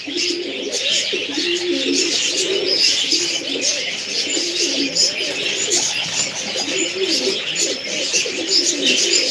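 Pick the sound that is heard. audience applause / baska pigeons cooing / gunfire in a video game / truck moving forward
baska pigeons cooing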